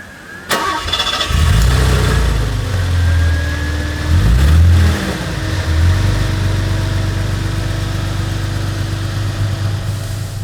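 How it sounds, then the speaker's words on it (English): A 1982 Mercedes-Benz 280GE G-Wagon engine cranks and fires up, revs briefly, then settles into a loud, steady mid-pitched running drone with another rev midway, heard from inside the vehicle. "So here we are in the G-Wagon, going for a short drive."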